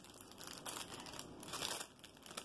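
Plastic shipping packaging crinkling as jewelry is folded over inside it, a soft, close rustle with irregular crackly bursts and no talk.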